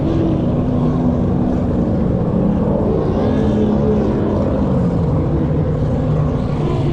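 Powerboats racing on a river at a regatta, a loud continuous engine drone with shifting whining tones as boats pass, heard steadily throughout without talk.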